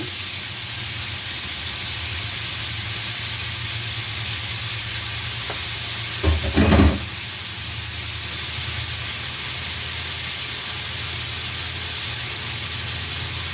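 Chopped onion fries in a pan for cowboy baked beans, a loud, steady sizzling hiss from start to finish with a brief burst of stirring or clatter midway.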